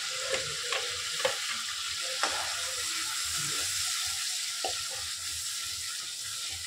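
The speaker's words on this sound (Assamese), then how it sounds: "এতিয়া মছলাৰ লগতে বিলাহীখিনি ভাজি লওঁ" Chopped tomatoes fry with spices in a pan, giving a steady close sizzle with scattered soft clicks of stirring, and no voices.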